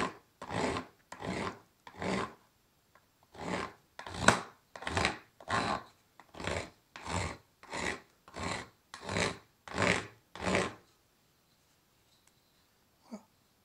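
A knife blade is drawn along an Opinel wooden handle to shape it, making about fifteen rhythmic rasping strokes, close and even, before falling quiet.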